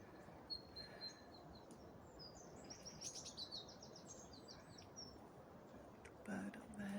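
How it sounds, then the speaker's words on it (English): A bird calls from high in an oak tree, with faint thin chirps and tweets repeating over a steady outdoor hiss. "Bird up there."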